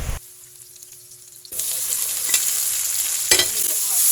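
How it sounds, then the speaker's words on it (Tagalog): Garlic and onion sauté beside frying pork head, first a quiet hum, then a loud hissing sizzle that bursts in and stays close and continuous, with a stir flaring it up again near the end. "Habang nga tayo'y nagpipirito, naggisa na nga ako ng bawang at sibuyas."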